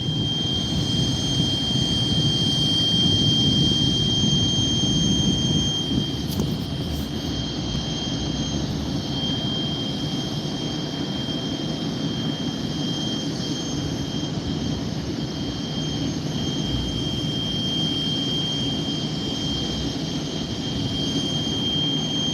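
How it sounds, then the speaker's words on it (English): Auxiliary power unit of a private jet running at a regional airport, a loud steady turbine roar with a sustained high whine, continuous and close with no voices. "That's the one that had the APU going. That's auxiliary power unit."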